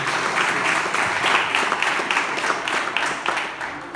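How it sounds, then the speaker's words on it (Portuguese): Church congregation applauding together during a worship service, a steady dense wash of clapping that holds at a fairly even level from start to finish, with no talk over it. "Aplauda o Senhor Jesus."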